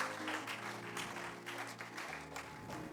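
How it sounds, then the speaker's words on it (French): A church congregation clapping and acclaiming the Lord, soft and somewhat distant steady applause over sustained organ-like musical tones, with no clear speech. "Est-ce que tu peux acclamer le Seigneur?"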